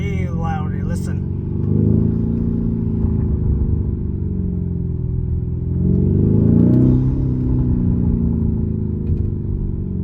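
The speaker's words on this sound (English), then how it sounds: "In Corsa mode, the exhaust pops really loudly." A 2022 Lamborghini Urus running in Corsa mode, with a loud, steady exhaust rumble that swells twice as the engine revs up and settles again, close and continuous throughout.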